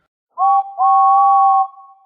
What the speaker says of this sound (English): they were making fun of their whistles